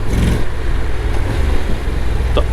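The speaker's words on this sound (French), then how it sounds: "Tu vois le changement de rapport? On l'entend quand même." Honda Forza 750 scooter from 2025 being ridden, with a loud, steady engine drone and wind rumble, a brief shift in tone as the gear changes, and no voices.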